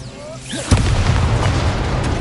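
An Incendio fire spell cast in Hogwarts Legacy bursts out as a sudden loud boom, followed by a sustained roaring, crackling rumble layered over faint game effects.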